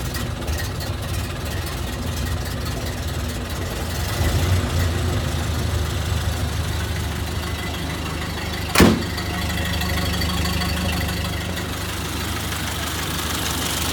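A 1930 Ford AA truck engine idles steadily with a low, rough rumble, its spark advanced, alongside a brief sharp knock near the end; the truck has a radiator leak and a carburetor in need of work.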